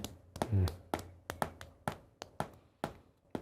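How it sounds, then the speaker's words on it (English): Rhythmic single claps of the back of one hand against the palm of the other, used for Tongren tapping, sound as about eight sharp, evenly spaced slaps. They come up close and distinct in a quiet room. "I'm just going to clap back of one hand and palm of the other for assistance."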